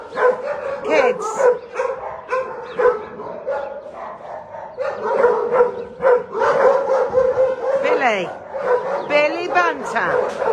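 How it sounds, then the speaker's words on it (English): Several dogs at an animal shelter bark and yip excitedly in quick bursts, with whimpers and high yelps mixed in, close by and continuous. "these three are an absolute nightmare, standing up barking at the other dogs."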